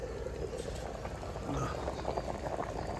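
Tuver beans boil inside a pressure cooker, giving a faint, steady bubbling hiss with a low rumble that continues without a break throughout.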